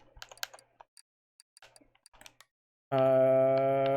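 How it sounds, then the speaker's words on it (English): Scattered clicks of a computer keyboard being typed on during a game session, irregular light taps for a few seconds before a loud sustained tonal sound abruptly takes over. "Keyboard plus mouse."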